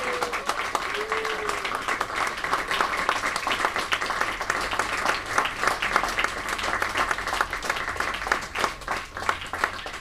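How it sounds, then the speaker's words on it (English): A crowd at the Mind Sports Olympiad applauds steadily throughout, dense clapping filling the room with a few louder claps standing out. "let's give them all a really big round of applause"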